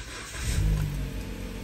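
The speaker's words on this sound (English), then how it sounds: "then we're going to start the car" A Jeep Patriot engine starts up close, a quick cranking burst that swells into a low idling rumble and holds steady for the remaining second or so, with no voices.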